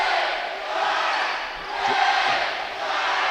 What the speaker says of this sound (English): Good crowd tonight. You hear them in the background.